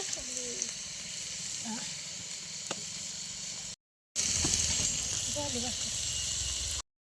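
Onion frying in a pan, a continuous close sizzling hiss with faint stirring, broken by a brief silent gap, as someone speaks intermittently over it.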